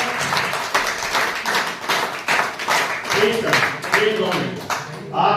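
Standing crowd at an event in Hisar, Haryana claps for the organizing team, a fairly rhythmic, close burst of many hands beating together, with people's voices mixed in underneath.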